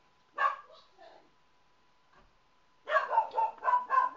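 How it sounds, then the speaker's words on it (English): An indoor dog lets out a single bark followed by softer yips, a pause, then a rapid run of about six loud barks close by over a faint steady hum. "why can't my dog shut up?"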